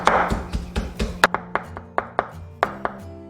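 Peeled shrimp is minced on a cutting board with the back of a kitchen knife, a run of about fifteen sharp, evenly paced chops, close and clear, with no voices.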